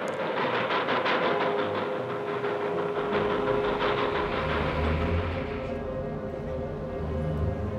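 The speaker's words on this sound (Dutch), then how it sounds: "Na een treinreis door Duitsland in de verzegelde treinen, door de Duitsers gefinancierd, kwam Lenin in Petrograd aan" A sealed railway carriage travels through Germany, making a steady loud rumble and rhythmic clatter on the rails that eases to a lower roll near the end.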